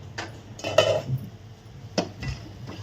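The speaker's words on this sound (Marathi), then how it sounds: "परत एकदा हलवून घेऊ आणि ते मस्तपैकी आपला गोडाचा शिरा तयार झालेला आहे" A spoon scrapes and clinks against a pan while sweet sheera with saffron is stirred, a few sharp metallic knocks and scrapes spread across the moment, close and otherwise quiet.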